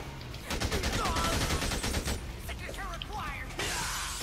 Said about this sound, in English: That shotgun.